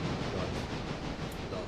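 A model train running on a branch line layout, a steady close rumble with a soft rolling rattle that carries on without a break.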